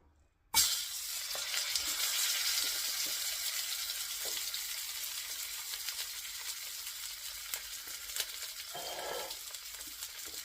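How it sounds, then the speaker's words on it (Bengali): A hilsa fish tail drops into hot mustard oil with a sudden loud burst, then sizzles and crackles steadily up close, easing slightly over time with occasional pops and no voices. "মাছটাকে আমি ভেজে নিচ্ছি"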